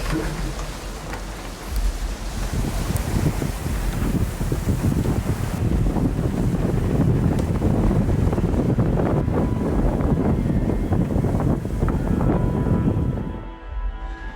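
Strong, steady gale wind of over 40 knots roars across the microphone on a sailboat at sea, with rushing water and waves beneath, loud and unbroken for the full length before easing at the end.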